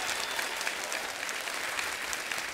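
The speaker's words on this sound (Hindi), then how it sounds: "जोरदार तालियां हो जाए हमारे मेहमानों के लिए" A studio audience applauds for the guests cricketers Chris Gayle and Brett Lee on The Kapil Sharma Show, a dense, steady burst of clapping from many hands that fills the room throughout.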